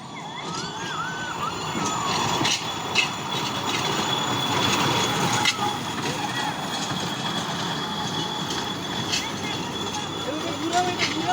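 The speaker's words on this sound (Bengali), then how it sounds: "এই আরেকটা পেয়েছি, বাচ্চাদের ট্রেন।" A children's ride train rolls through an eco park with a steady rumble, clattering wheels and occasional squeals, under the background chatter of a crowd.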